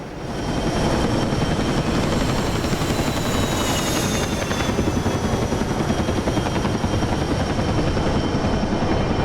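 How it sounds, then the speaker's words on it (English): A CH-47 Chinook helicopter in the DCS combat flight simulator drones loud and steady, with a dense throbbing rotor chop and a high turbine whine running throughout. "take a look at the new rotary wing addition to DCS and put it through its paces"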